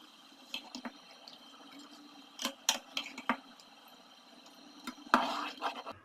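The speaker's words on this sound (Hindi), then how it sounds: "और अब इसमें मैं चावल डाल दूँगी" Rice is tipped into a pot of boiling water for a Pakistani-style green peas pulao, giving scattered soft splashes and drips with a denser wet burst near the end, no talking.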